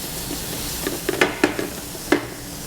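Shrimp sautéing in a pan for restaurant-style shrimp scampi, the pan kept moving: a steady soft sizzle with a few light clinks and scrapes of stirring, close and alone.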